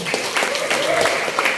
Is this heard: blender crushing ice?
no